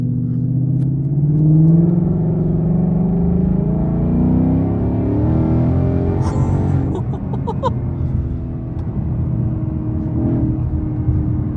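A Ford Mustang with a Corsa exhaust in sport mode, downshifting and revving: a loud, deep exhaust rumble swells and holds, then gives way to rougher, choppier engine sound with faint higher clatter.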